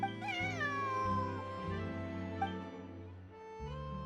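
A cat in the video game Genshin Impact gives a long wavering meow that fades, then a few softer mews, close and clear over a quiet game background score.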